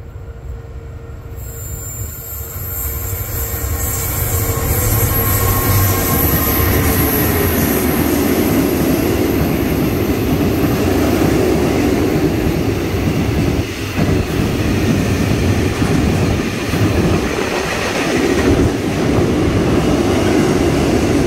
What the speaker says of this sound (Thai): มาแล้วครับขบวน532วันนี้กลับแต่วันบ่าย2:10 นผ่านสถานีท่าพระแล้วครับ